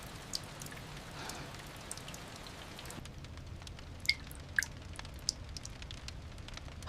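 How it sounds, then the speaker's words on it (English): Soft rain falling against the windows of a home, a steady gentle patter with scattered sharper drips standing out, quiet and without voices. "The rain fell softly against the windows of Amalendlova's home"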